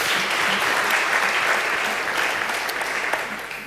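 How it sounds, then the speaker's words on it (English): Audience applause at a live coffee debate on whether great coffee can scale, a dense, sustained burst of clapping from a crowd that fades toward the end. "Round of applause."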